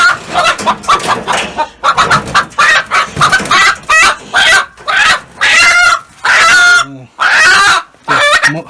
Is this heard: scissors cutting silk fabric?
no